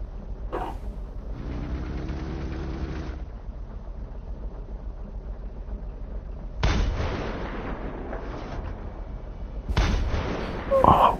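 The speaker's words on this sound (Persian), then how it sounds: "تجربه سوار شدن تانک رو تا حالا نداشتم. برم سوار بشم ببینم چه خبره." Heavy, booming bursts from a tank in an Iranian car video game ring out over a steady low rumble, with sharp blasts near the start and then again near the end.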